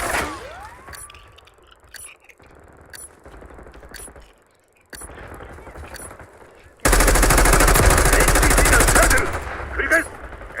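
Machine gun fire in a video game: sharp isolated shots and short bursts, then a loud sustained automatic barrage for about two seconds, with talk and game sounds in between.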